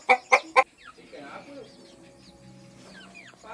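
Chickens in a village yard in Malaysia: three loud, close clucks at the start, then softer scattered clucking and chirps from several birds continuing in the background.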